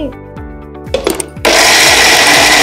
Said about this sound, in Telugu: మనం మిక్సీ పట్టుకుందాం